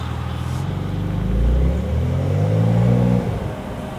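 The twin-turbo flat-six of a 992 Porsche 911 Carrera T with PDK gearbox revs up close and loud, rising in pitch to a sustained high blip before dropping back toward idle, with no talking.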